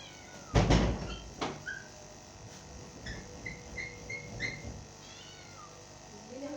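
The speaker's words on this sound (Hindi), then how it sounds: "देख फिर बिल्ली आ गई।" A cat meows a few times in short, clear cries amid a quiet kitchen with light knocks and shuffling; no one speaks.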